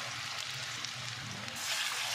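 Mutton pieces frying in hot ghee in a dhaba-style karahi pan, a steady dense sizzle that holds evenly and grows a little brighter toward the end, close and continuous with no talk.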